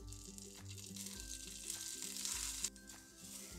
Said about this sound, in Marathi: थोडं आपण यावरती तेल टाकून घेऊ म्हणजे मिरची छान अशी भाजली जाईल।